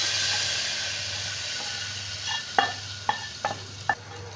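Kashmiri chilli stirred into a sizzling fried mixture in a pan for pumpkin erissery: a steady oil hiss with four sharp spoon scrapes and clinks near the end, close and fairly loud.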